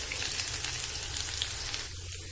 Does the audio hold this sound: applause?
no